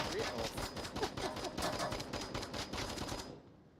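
Rapid gunfire in the VR shooter Onward during a competitive league match, a dense stream of sharp automatic shots that cuts off abruptly near the end, with no voices.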